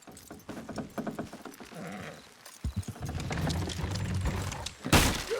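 Horses trotting in the Red Dead Redemption 2 video game, a quick irregular clip-clop of hooves with creaking harness and wagon mechanics, fairly close and rising toward the end, with little talk.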